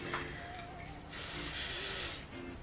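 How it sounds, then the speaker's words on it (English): A short hiss of a spray bottle of lace spray on a wig, a single burst of about a second, close by, after a quiet moment with faint background tones. "So I'm using my Kiss lace spray"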